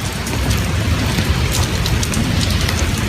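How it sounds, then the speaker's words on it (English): Steady rain falling outdoors at night, a loud, dense, even hiss of drops with low rumbling underneath, with no voices. "it's raining out here tonight"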